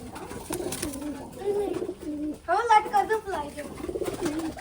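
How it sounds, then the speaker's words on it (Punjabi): Kept pigeons coo in soft, rolling bursts nearby, with a person talking over and between the calls. "ਬੰਦੇ ਨੇ ਕਿੰਨੇ ਕਬੂਤਰ ਰੱਖੇ"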